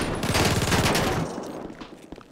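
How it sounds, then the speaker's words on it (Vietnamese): Uzi submachine gun fired in the video game GTA 5, a loud rapid burst lasting about a second that ends in a decaying echo. "Đó, súng này Uzi đó bạn,"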